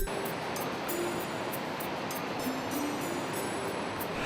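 Rushing water of the Marsyangdi River on a Nepal trek near a big waterfall, a steady dense roar that fills the whole clip without pause, close and loud.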